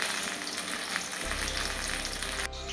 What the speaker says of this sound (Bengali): এবার উল্টিয়ে পাল্টিয়ে ভালো করে লাল লাল করে ভেজে নেবে।